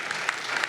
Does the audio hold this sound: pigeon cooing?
no